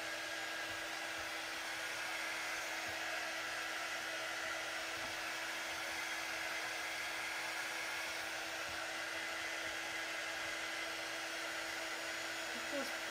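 A hair dryer blows in a steady, loud, continuous whir throughout, drying ink on a Chalk Couture chalk transfer.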